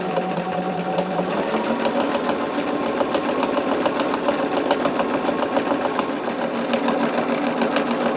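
Sewing machine stitching steadily along the seam of a small quilted mini charm bag, a continuous close, even mechanical whir with a fast needle rhythm throughout.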